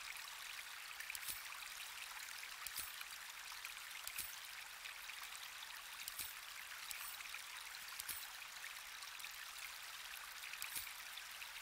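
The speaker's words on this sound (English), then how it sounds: "Why is the water getting louder?" Flowing water in the Baldur's Gate 3 video game makes a steady, hissing rush, with faint soft ticks recurring at roughly regular intervals.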